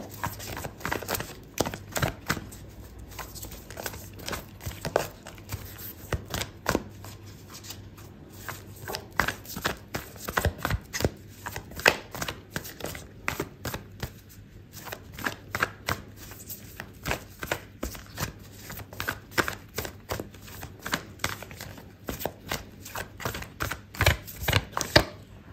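Oracle cards are shuffled and drawn by hand, giving a long run of soft, rapid card riffles and taps in irregular clusters, close but quiet, with no talking.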